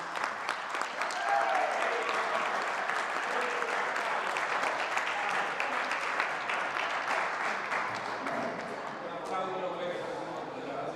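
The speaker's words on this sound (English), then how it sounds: "let's give a round of applause for the 2023 FBA champion" An audience at an awards ceremony applauds a champion with sustained, fairly distant clapping that carries on steadily and tapers off at the end.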